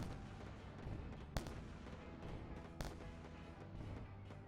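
Enemy ship fires at the player's craft in the space game Wayward Terran Frontier: Zero Falls, two sharp blasts standing out over a steady rumbling engine and ambient drone, fairly loud, with no talking.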